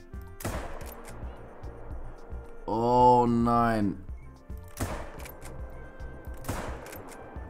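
Rifle shots ring out while hunting raccoon on the New England map in theHunter: Call of the Wild: three sharp, loud cracks spread a few seconds apart, with a short spoken exclamation between them.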